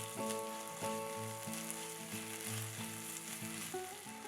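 Chopped onion sautéing in a hot pan, giving a steady, loud sizzle and crackle of frying throughout, with soft stirring scrapes and faint background music.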